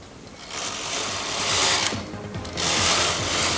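A Brother knitting machine carriage runs across the needle bed, a loud continuous mechanical whir with clicking, rising in two long passes with a brief dip between.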